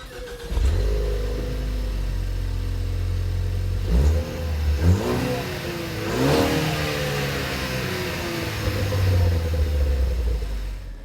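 A Ford Focus ST with its stock exhaust revs up repeatedly, deep and loud, rising and falling in pitch across several throttle blips.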